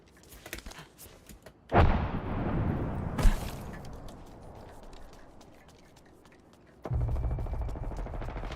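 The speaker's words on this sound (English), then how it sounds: "They're shooting at me." Gunfire and explosions sound in a video game battle, with heavy bursts and sharp booms over a rumbling background that rise and fall in intensity and come back loud near the end. No one speaks.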